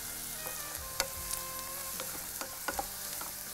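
Button mushrooms sautéing in a pan, a soft continuous sizzle broken by occasional stirring clicks and scrapes, heard close and alone without talk.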